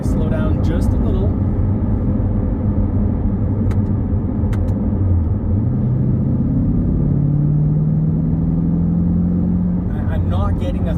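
A C8 Corvette engine and exhaust drone loudly and steadily from inside the moving car, with the pitch sliding upward midway, while someone talks over it.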